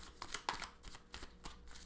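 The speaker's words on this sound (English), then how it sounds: "One more shuffle here." Cards riffled and shuffled in several quick, soft bursts, close by and fairly quiet, with no talking.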